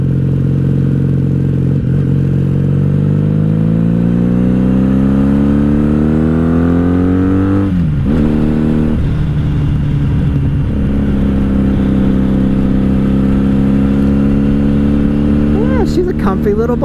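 A 1997 Honda Magna 750 VF750C motorcycle riding in second gear, its engine note climbing steadily in pitch, dropping with a shift or throttle change, then holding a loud, close, even drone.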